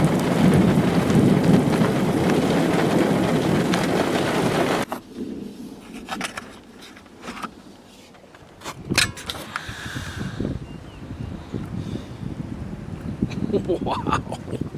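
Heavy rain pours during a severe thunderstorm near a city port, a loud roaring downpour that eases halfway through, with rumbles and scattered drips after.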